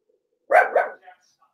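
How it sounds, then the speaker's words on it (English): A single short dog bark, a double-pulsed woof, clear and fairly close against silence. "We have our dog barking."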